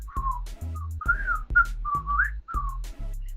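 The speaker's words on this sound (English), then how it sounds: "the song itself, like the whistle was really catchy for me" Bright, melodic whistling plays a catchy tune in short phrases over a bouncy bass line and beat in a K-pop song.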